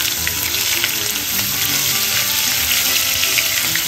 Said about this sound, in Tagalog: ilagay natin yung ating sibuyas dito